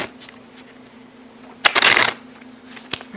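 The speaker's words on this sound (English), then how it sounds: "Shuffle the cards." A deck of playing cards being shuffled, a loud dense burst of riffling cards in the middle with a few lighter card taps and handling sounds before and after, close by with no talk.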